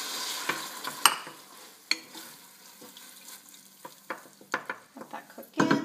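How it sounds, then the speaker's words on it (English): Diced tomatoes being stirred into a hot pot of chicken curry on medium heat, with soft scraping and light sizzling, a few sharper utensil knocks against the pot, no voices. "I'm going to throw in our 2 medium diced tomatoes."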